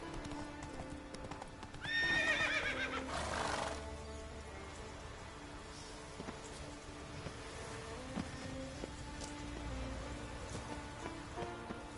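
Roach, the horse in The Witcher 3, whinnies loudly near the start, then hooves clop in a quick rhythm under light rain patter, moderately close and steady.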